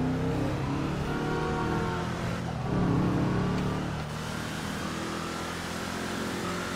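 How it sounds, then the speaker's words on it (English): A small car's engine revving in GTA 5, loud and close, with a continuous rough drone that surges and swells around the middle before easing to a steady idle-like hum, no talk. "Sounds so nice for a weenie car."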